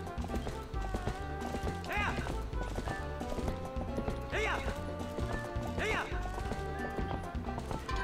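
Horse hooves clip-clopping in the Zelda: Twilight Princess video game, a steady galloping rhythm with several whinnies breaking through, set under in-game music and bustle.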